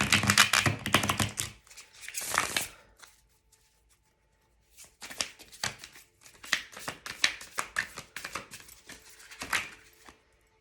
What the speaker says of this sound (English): Let me shuffle these.